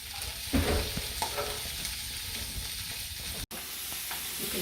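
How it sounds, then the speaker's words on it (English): Sausages brown in a frying pan, giving a steady, moderately loud sizzle with a few soft clunks near the start and one abrupt brief dropout, no voices present. "the sausage are now starting to brown nicely on one side"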